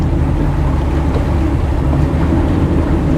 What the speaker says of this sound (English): So I'm just going to do some transverse thrust. I've got the engine centered